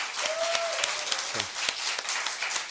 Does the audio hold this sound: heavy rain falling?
no